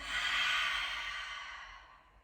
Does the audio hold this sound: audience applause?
no